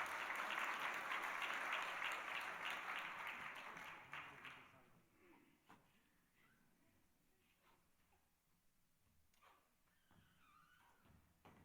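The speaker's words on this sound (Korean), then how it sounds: "우리 박수로 축하해 주시기 바랍니다." A church congregation at a Sunday service breaks into applause, strong clapping for about four seconds that tapers off into quieter room noise, faint murmuring and a few light knocks.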